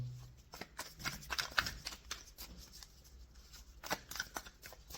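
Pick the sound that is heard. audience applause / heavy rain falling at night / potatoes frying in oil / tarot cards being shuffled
tarot cards being shuffled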